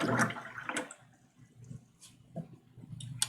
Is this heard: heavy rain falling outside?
no